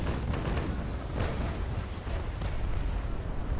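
Six-pounder long cannons firing from a sailing warship in the Naval Action Legends naval battle game, a dense, continuous rumble of overlapping booms with no clear gaps, loud and sustained.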